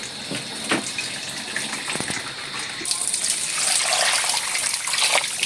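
Water poured onto freshly grated coconut to be pressed for pure coconut milk, heard as a steady near splashing gush that swells louder and brighter halfway through, with no voices.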